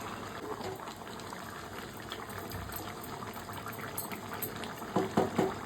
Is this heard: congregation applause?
no